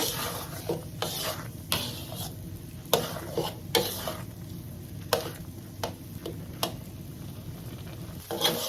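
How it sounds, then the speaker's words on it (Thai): Rice being stirred in coconut milk in a pan over medium-low heat, a soft steady scraping and rubbing with a faint simmer underneath, broken by a series of sharp utensil taps against the pan. "ผัดต่อด้วยไฟกลางค่อนไปทางอ่อนค่ะ คนต่อ เรื่อย ๆ"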